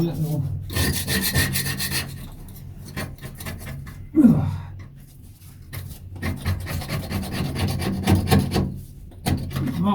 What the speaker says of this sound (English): Okay, scrape this off.